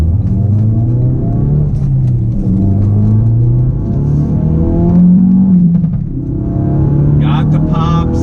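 A 450 hp 2017 Ford Focus RS engine drones and revs loudly at close range, rising and falling in pitch, with a few brief exhaust pops near the end.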